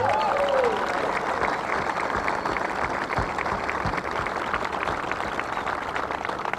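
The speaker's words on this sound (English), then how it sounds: "Let's give them a big round of applause." A crowd at an outdoor Honor Flight event honoring veterans applauds steadily and loudly, a dense, continuous clapping that fills the whole stretch without pause.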